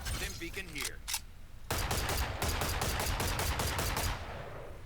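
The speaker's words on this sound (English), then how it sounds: "firing just a full clip to look at the spread" Guardian rifle from a video game emptying a full magazine: a few scattered shots first, then a rapid, even string of about a dozen loud, close reports, with faint speech-like sounds briefly at the start.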